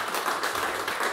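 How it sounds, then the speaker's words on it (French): Brief burst of audience clapping at a conference, a dense, fairly close patter of many hands lasting about a second. "D'ailleurs, on peut t'applaudir, Cyril."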